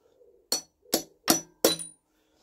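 A hammer strikes four sharp, evenly spaced taps, close and fairly loud, each ringing briefly before the next, marking an indentation in the middle of a hole while bolting a Ruston engine onto a trolley.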